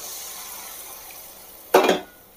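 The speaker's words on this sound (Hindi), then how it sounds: "एबे एइथे गरम पानी टिके देबे।" Hot water poured into a pan of soybean curry, a short sizzling gush lasting under a second after near-silence, loud and close.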